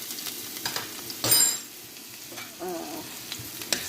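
Leftover rice frying in a pan, the oil it was cooked in giving a steady close sizzle, with a brief louder burst of crackling as it is stirred and scraped.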